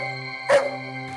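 A single sharp dog bark rings out mid-moment inside a home, loud and close, set against a sustained tonal musical drone that continues before and after it.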